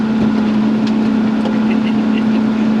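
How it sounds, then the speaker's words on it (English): A narrow row-crop tractor's engine drones steadily at close range with a strong low hum and rattly vibration while working a rough hay field. "I'm on a narrow grow crop tractor"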